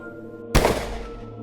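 One loud, sudden gunshot sound effect in a Marathi thriller audio drama cracks out over a steady low background drone and rings off briefly.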